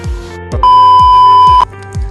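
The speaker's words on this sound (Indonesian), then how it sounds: "buzzer berbunyi selama mendeteksi api yang ada di depan robot tersebut" A fire-detecting robot's buzzer gives one loud, sustained electronic beep lasting about a second, while short repeated clicks from the robot run underneath.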